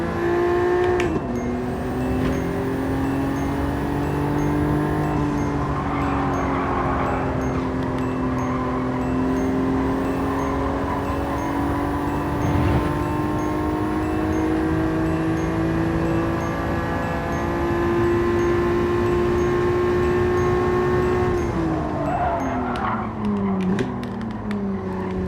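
Race car in Gran Turismo 7 driven with no ABS, its engine droning steadily and loud throughout, pitch shifting with gear changes and braking, a brief downshift and deceleration near the end.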